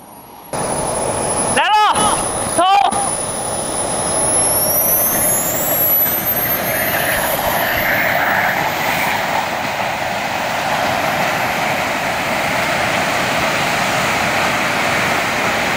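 A turbojet engine mounted on a jet-powered surfboard starts up outdoors, with two sharp ignition bursts followed by a rising whine that settles into a loud, continuous roar.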